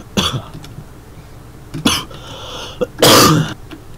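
Several sharp coughs and throat-clearing bursts, close to the microphone, with a longer harsh cough near the end.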